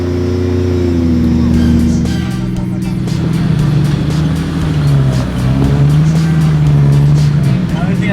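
Off-road vehicles grind uphill on a dirt track, a loud, close engine drone holding steady with slight pitch shifts, while a voice talks over it.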